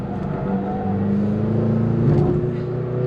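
A McLaren GT sports car on a track, its engine a steady loud drone with a shifting pitch as it drives, heard from inside the car.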